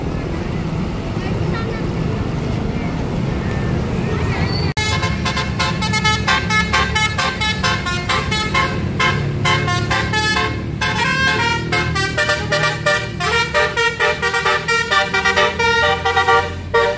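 Basuri telolet bus horns play rapid, musical honking tunes in repeated bursts from about five seconds on. The horns are loud and near, with bus engines and crowd noise underneath.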